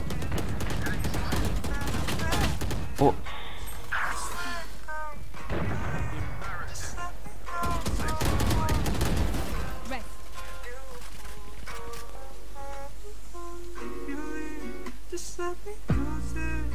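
Bursts of Valorant gunfire, sharp repeated cracks in clusters spread across the stretch, with excited talking layered over the shots and background game sounds.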